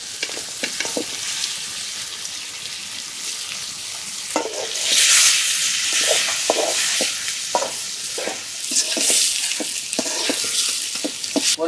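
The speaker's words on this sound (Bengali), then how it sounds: "মশলা কষানো হয়েছে, এখন মাছগুলো দিয়ে দেবো।" Fish cooking in a pan of spiced masala made with garlic-ginger paste, salt, turmeric and chili powder, giving a close, steady sizzle broken by repeated spoon scrapes and taps, and a louder surge of bubbling midway.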